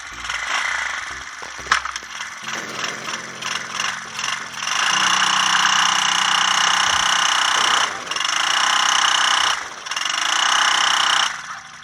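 A quad ATV engine held at full throttle while towing a heavy load, a loud sustained mechanical roar with rattling and brief dips in revs.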